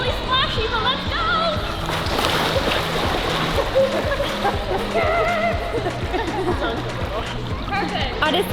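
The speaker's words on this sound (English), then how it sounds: "it's gonna get really splashy, but let's go!" Heavy splashing and sloshing water during an AquaMermaid mermaid swim class, continuous and loud for the whole stretch, with excited voices calling out over the churning.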